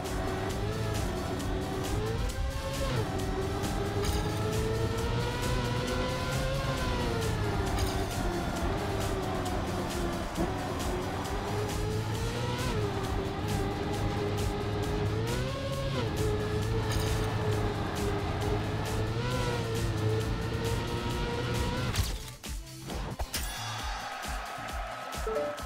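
A car in Trackmania 2020 drives across asphalt and a dirt track with a continuous, loud engine drone. The pitch rises and falls with gear and speed changes, and a brief cut and disturbance comes near the end.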